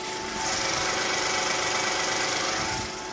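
A Hyundai Genesis BH sedan engine idles smoothly and steadily up close with the hood open, a low even hum with a regular pulse and no other sounds.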